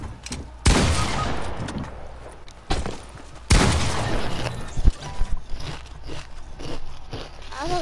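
Loud shotgun blasts from a first-person shooter video game, a few sharp booming shots spaced through the clip with crunchy impacts and clatter between them.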